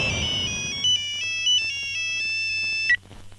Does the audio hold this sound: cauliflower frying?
no